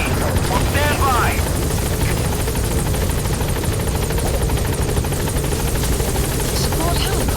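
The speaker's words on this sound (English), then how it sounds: "Support helicopter has arrived." A support helicopter's steady rotor drone in Metal Gear Solid V: The Phantom Pain fills the whole stretch, loud and close, with brief game sound effects and faint voices underneath.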